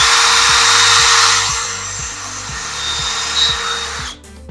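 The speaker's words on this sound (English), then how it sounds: "we're going to drill the hole in the" A power drill whirs loud and close as it bores a hole in the center of a large garden tower, motor pitch sagging under load and then stopping abruptly.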